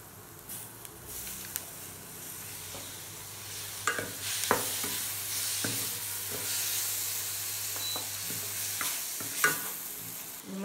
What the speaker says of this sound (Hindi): प्याज जो है वो थोड़े भुन गए हैं, अब हम इसमें टमाटर डाल देंगे।